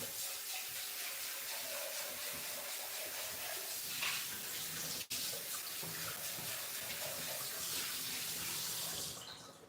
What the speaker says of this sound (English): Right, so I'm going to rinse this out.